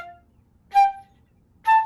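Two short, crisply tongued flute notes separated by a wide gap of silence, close and clear, each note cut off quickly.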